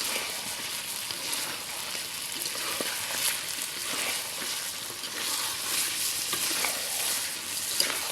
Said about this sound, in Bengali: সেই মাংস কষানোই চলতেছে।